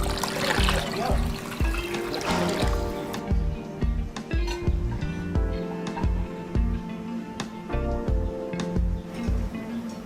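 Kadhi mixture with two glasses of water pours and splashes into a cooking pot with a steady trickling gush, then lighter drips and sloshing; close and fairly loud.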